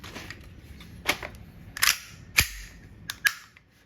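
A green-gas airsoft Glock 19X pistol fires plastic BBs in five sharp, snappy shots spaced about half a second to a second apart, each with a crisp click and faint mechanical rattle.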